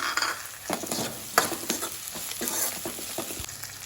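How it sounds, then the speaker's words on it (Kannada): Chopped green chillies fry in hot oil for rajma sambar, a soft, steady sizzle broken by repeated scraping stirs and light clinks of a spoon against the pan, close and fairly quiet with no talking. "ಚಿಕ್ಕದಾಗಿ ಹೆಚ್ಚಿಟ್ಕೊಂಡಿರುವಂಥ ಹಸಿಮೆಣಸಿನಕಾಯಿಯನ್ನು ಹಾಕ್ತೇನೆ"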